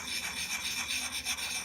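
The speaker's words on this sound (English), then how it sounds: "There's no substitute for patience with grinding by hand, so here we go." An axe blade is ground by hand on the coarse side of a water-soaked Hults Bruk Axe Puck stone, making a continuous close rasping scrape with a steady back-and-forth rhythm and no voices.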